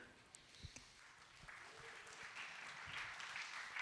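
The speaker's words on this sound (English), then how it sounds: "Give a round of applause to our fantastic guest over here." Audience applause for a guest at a tokenization conference in New York, quiet and distant at first, then swelling into a steady wash of clapping.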